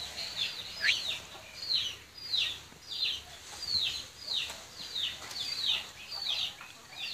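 Repeated high, chirpy calls from a hen come in a steady series, about ten of them, over a soft background hiss.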